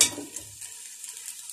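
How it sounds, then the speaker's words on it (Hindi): Hakka noodles being stir-fried in a pan give a soft, steady sizzle with a few low scraping stirs near the start, fairly quiet and with no voices. "चंद सेकंड हम इसमें भूनेंगे।"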